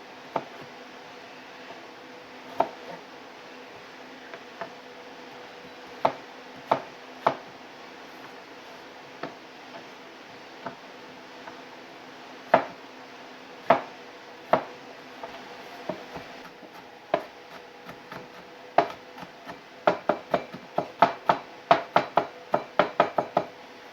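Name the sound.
chopping garlic cloves finely with a knife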